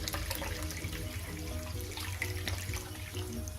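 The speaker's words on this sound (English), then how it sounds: "It's 2 cups of rice just for 3 people and I'm adding a little water to it." Water pours steadily from a tap into a pot holding two cups of rice, a continuous close splashing rush with faint drips and clinks, no voices.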